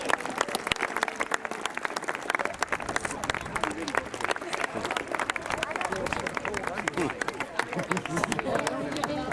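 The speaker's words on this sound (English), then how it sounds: "Ladies and gentlemen, a polite round of applause for the enemy." Crowd applause at an outdoor World War II weekend in Dover marking the D-Day 75th anniversary, a dense, steady round of clapping from many spectators for re-enactors, sustained throughout with crowd murmur underneath.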